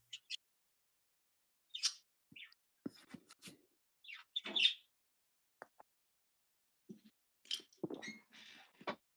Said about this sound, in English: They are birds in the background